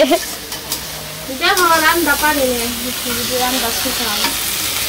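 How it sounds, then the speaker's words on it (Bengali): Pumpkin pieces fry in a pan over a village cooking fire, a loud steady sizzle with stirring scrapes running throughout while someone talks over it. "আর একটু ভাজতে থাকবো"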